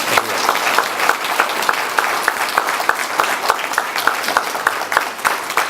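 A dinner audience at a school-system employee retirement banquet applauds retirees with steady, dense clapping that carries through evenly at moderate loudness from start to finish, the sound of a full room all clapping together.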